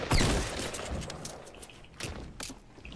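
Several sharp gunshots crack in quick succession in the video game Fortnite, followed by more scattered shots at a moderate distance with no talking.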